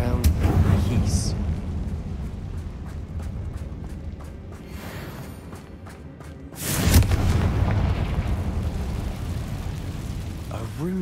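In Hogwarts Legacy, a Confringo fire spell sets off a booming explosion that erupts partway through, a deep rumbling blast that rolls on under continuing ambient noise, close and fairly loud.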